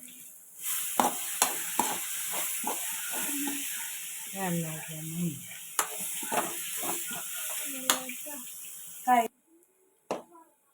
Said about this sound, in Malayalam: കുറച്ച് കറിവേപ്പില കൂടി ഇട്ടുകൊടുക്കുന്നുണ്ട്